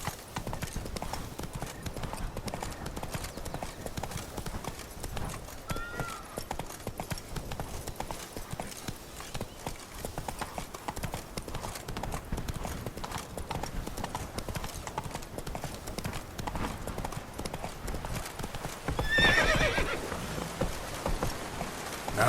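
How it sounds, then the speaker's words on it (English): Horse hooves clip-clopping steadily throughout in The Witcher 3, with a brief louder burst near the end and light rain-like patter under the game's ambient sound. "Not so fast, Roach"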